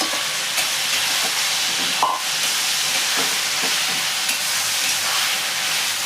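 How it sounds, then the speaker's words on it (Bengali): Marinated chicken goes into onion and ginger-garlic paste frying in a pan, giving a loud, broad, steady sizzle and hiss with a few stirring knocks, no voices over it. "পেঁয়াজ এবং আদা রসুন বাটাটা আমার ভাজা হয়ে গেছে। এবার ম্যারিনেট করা চিকেনটা আমি এতে দিয়ে দিলাম।"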